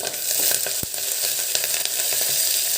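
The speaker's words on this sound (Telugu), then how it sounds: "జీలకర్ర మిరియాలు అల్లము పచ్చిమిర్చి కరివేపాకు మొంత ఇవన్నీ వేసి కొంచెంసేపు వేగనిద్దామండి" Cumin, black pepper, ginger, green chilli and curry leaves fry together in hot oil, producing a continuous bright sizzle with scattered pops and one sharp knock, close and with no talk.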